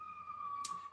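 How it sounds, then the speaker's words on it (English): An emergency siren sounds outside a conference room, a faint steady tone held for the whole second with a brief sharp click near the end. "Sorry about the siren outside."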